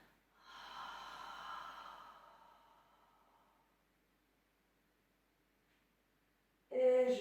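A long audible exhale through the nose and mouth during a pilates exercise, soft and close, fading over a few seconds into near silence before a brief louder noise at the end.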